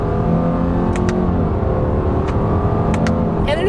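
A 2020 Subaru Legacy accelerates in first simulated gear using its paddle shifters, with a loud, steady engine drone rising in pitch from inside the cabin and a few faint clicks.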